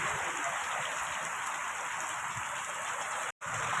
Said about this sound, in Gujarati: ભાવનગર જિલ્લાના ગારિયાધાર તાલુકામાં પડી રહ્યો છે ધોધમાર વરસાદ. કરા સાથે અને પવન સાથે ફૂલ પવન છે